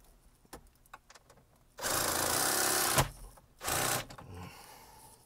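A power tool runs in two loud bursts of whirring while a bolt is removed from the dash trim of a 2013 Ford Taurus. Faint clicks and taps come before and between the bursts.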